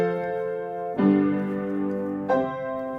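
Four-part chord progression in which the voices move in a jagged, overlapping way, three sustained chords struck one after another with clear attacks, clean and alone with no talk.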